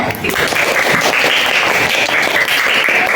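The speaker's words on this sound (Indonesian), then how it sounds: "Beri tepuk tangan." A primary school classroom gives a round of applause, loud and sustained, with many small hands clapping in a dense, unbroken patter close by.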